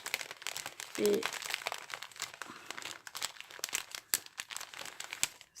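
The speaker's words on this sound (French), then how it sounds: "va regarder dans nos petits chutes de ruban. Je suis désolée, ça va faire du bruit." Ribbon scraps rummaged through by hand while making a 3D greeting card, a steady crinkling and crunching rustle running throughout, close and fairly loud, with a brief spoken word near the start.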